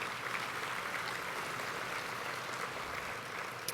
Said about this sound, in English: Could you share a round of applause for these top-level sponsors?